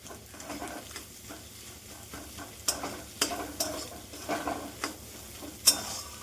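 Eggs fried Bengali style in a pan over higher heat give a steady close sizzle, broken by sharper scraping clicks as a spatula stirs them.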